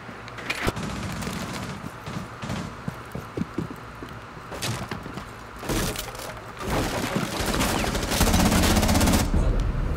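Rainbow Six Siege gunfire rattles in repeated sharp bursts and single cracks, some near and loud, others more distant, with a denser stretch of shots toward the end and no talk.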